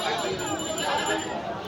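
Goats bleating amid the crowd noise of a busy rural goat market in Bangladesh before Eid al-Adha, with bleats rising over a constant murmur of voices and someone talking close by.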